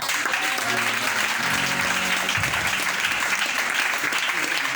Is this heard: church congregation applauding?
yes